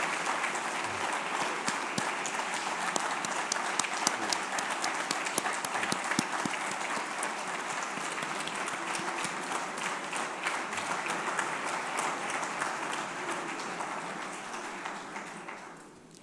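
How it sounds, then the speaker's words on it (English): A loud, sustained round of applause from a large assembly audience fills a conference hall, dense clapping with sharp individual claps standing out, continuing strongly before tapering off at the end. "I want you to give them a loud round of applause."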